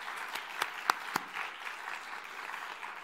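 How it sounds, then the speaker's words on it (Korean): A church congregation offers a short, soft round of applause after a performance, quiet scattered clapping with a few sharper individual claps near the start. "우리 박수 한번 하시겠습니다"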